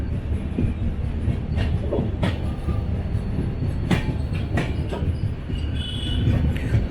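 The Kannur Yesvantpur Express moving back onto the main line, with a heavy, continuous rumble of wheels on track, rhythmic clacks over rail joints and a faint squeal, heard from inside the train.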